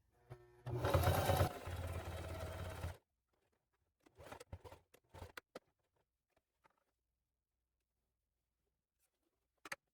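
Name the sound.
sewing machine stitching a handbag pocket line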